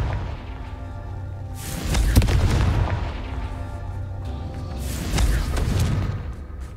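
A Confringo spell blast in Hogwarts Legacy: two heavy booming explosions a few seconds apart, each a loud deep thump with a crackling, rumbling tail over a low game ambience.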